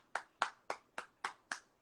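Hands clap six times at an even, steady pace, each clap sharp and moderately quiet, with silence between them and no talking.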